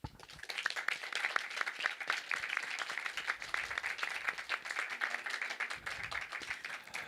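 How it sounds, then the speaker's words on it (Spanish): A festival audience applauds three panelists after an Ibero-American directors panel, a long, steady run of many hands clapping, faint and distant, with no voices over it. "un aplauso para los tres"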